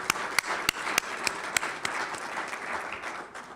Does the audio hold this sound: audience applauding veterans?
yes